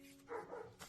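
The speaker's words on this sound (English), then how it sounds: "I don't know if you can hear the dogs barking in the background" Shepherd dogs bark in the background, a couple of faint, distant barks within a short stretch under quiet room tone.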